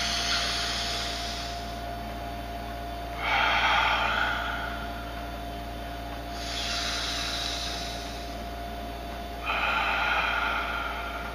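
Slow, deep breaths alternate in a steady cycle: two long inhales and two long exhales of rushing air, each lasting a few seconds, close and clear with no speech.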